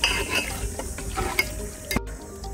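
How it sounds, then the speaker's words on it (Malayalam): A spoon stirs boiling milk in a pot for tharinjanji dessert, giving soft repeated scraping strokes over a steady bubbling hiss, with one sharper clink near the end. "നമ്മൾ എപ്പോഴും പാലൊന്ന് ഇളക്കി കൊടുക്കണം, ഇല്ലെങ്കിൽ അടിയിൽ പിടിക്കും"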